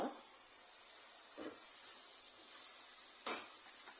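Vellore brinjal sautéing in a pan for a spicy kuzhambu, a steady soft sizzle running throughout with a few brief clatters of stirring, close and fairly quiet.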